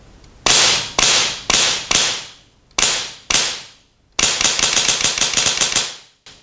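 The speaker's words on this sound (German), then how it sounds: "So, ich halte mal ein bisschen ran und jetzt drücke ich mal ab." A Begadi HW47 Polarstar HPA AK47 airsoft rifle fires close and loud, first as six sharp single shots spaced about half a second apart, then as a fast full-auto burst lasting about two seconds.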